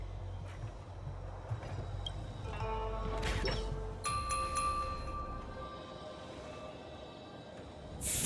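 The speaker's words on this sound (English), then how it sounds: "We could try ringing the harmonic chime." A harmonic chime rings in the Honkai: Star Rail game, a sustained bright metallic tone with overtones swelling in around three seconds and holding steady over a low rumbling ambient bed, with a second shimmering layer near the end.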